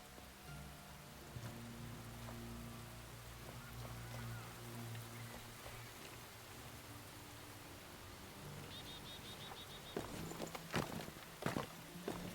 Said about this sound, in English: Starts raining in the game